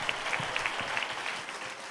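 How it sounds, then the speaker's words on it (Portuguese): A congregation applauds during a church celebration service, steady clapping from many hands in a room, moderately loud and brief. "Aplauda o Senhor, querido."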